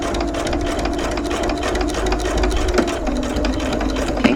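A sewing machine with a walking foot runs steadily through a bag seam, its rapid needle rhythm continuous and close throughout, with a faint click near the end.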